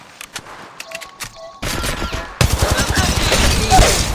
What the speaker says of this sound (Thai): พบศัตรูกำลังยิงต่อสู้